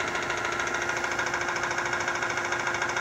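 Electric boat motor rigged to its original throttle, running forward at 12 volts: a steady, continuous mechanical hum and whine with a fine rapid buzz, even in level throughout, with no talking.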